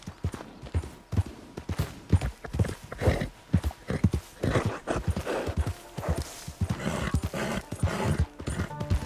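Horse hooves clip-clop in a steady galloping rhythm, close and fairly loud, as a mare is ridden through the open country of Red Dead Redemption 2, with no talking.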